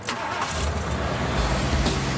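A Bricklin SV-1 car engine turns over and catches, then settles into a loud, rumbling idle close by.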